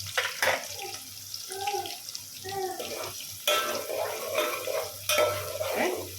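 Tap water runs and splashes over raw mutton being rinsed in a sink, with bursts of gushing flow and handling noises under faint talk in the background.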